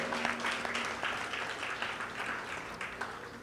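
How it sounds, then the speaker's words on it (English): Steady, dense applause from an audience at an 80th birthday celebration and evening satsang, a crowd of hands clapping together for the whole stretch. "give them another round of applause."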